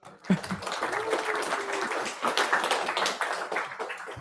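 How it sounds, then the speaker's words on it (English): An audience at a tech conference applauds to welcome a speaker onto the stage, a dense, steady wash of many hands clapping at moderate distance for a few seconds. "welcome him with a great applause"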